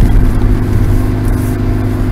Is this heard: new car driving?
yes